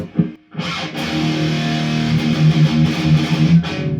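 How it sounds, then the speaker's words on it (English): A distorted electric guitar rings out after a short plucked start, sustaining a thick, buzzing chord that swells and wavers, loud and close. "want to hear what that sounds like with distortion"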